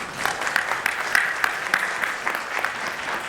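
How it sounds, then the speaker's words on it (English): Hands clap together for the panelists at a conference session, a steady, moderately loud patter from a seated audience with a few sharper claps popping out. "Let's have a huge round of applause for them"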